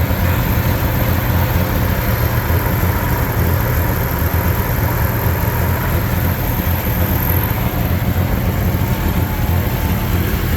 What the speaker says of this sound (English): I would say for sure missing on one cylinder at least, maybe two. And the exhaust leak doesn't help it at all